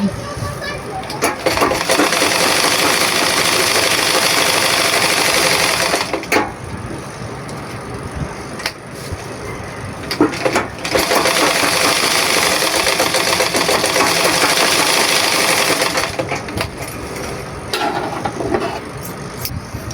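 A flood-damaged, repaired sewing machine runs in long loud bursts of rapid mechanical clatter, stopping briefly between runs, with a voice speaking over it.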